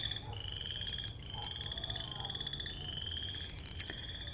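Frogs calling in repeated high, buzzing trills with a few low croaks, steady over a soft outdoor background hiss.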